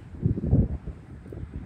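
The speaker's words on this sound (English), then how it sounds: "And it's very windy today." Strong gusty wind in a dust storm in Odessa, Texas, buffeting the microphone with low rumbling surges that peak early and then ease to a steadier blow.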